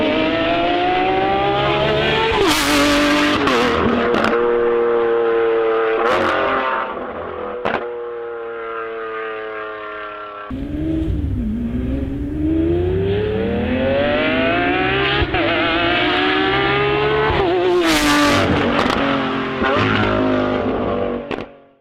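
Lamborghini naturally aspirated V12 revving loud and close, climbing and falling through repeated high-pitched pulls with sharp crackles on the overrun and a brief dip between revs.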